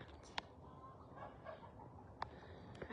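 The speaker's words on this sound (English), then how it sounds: "I can hear my chickens." Domestic chickens cluck in a few short, scattered bursts over a steady background hiss, fairly faint and some distance from the microphone.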